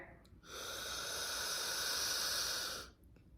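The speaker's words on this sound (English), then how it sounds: "We're gonna inhale here." A single deep, steady inhale into a Lumen metabolism breathing device, a close airy hiss that swells in, holds for about two and a half seconds, then cuts off in quiet.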